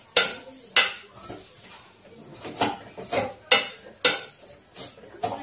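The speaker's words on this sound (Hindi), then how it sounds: "तो मैं ये सिवाइयों को सेक कर रही हूँ" Vermicelli being roasted in ghee in a pan, with a series of sharp metallic scrapes and clinks of a spoon against the pan recurring every second or so, close and fairly loud, with faint sizzling between strokes.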